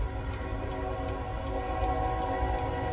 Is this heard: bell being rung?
no